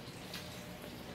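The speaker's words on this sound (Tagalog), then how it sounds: "Tumutunog yung tubig." Running water at a relaxing garden spot with plants around, a soft continuous rushing and trickling wash, fairly faint and steady.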